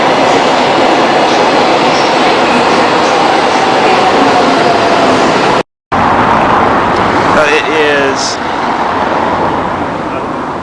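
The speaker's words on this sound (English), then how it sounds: "Taking the subway back" A subway train ride in Portugal, with a loud, steady rumble and roar of the moving carriage filling the whole stretch, a brief cutout midway, then faint squeals and a rising tone as the train continues.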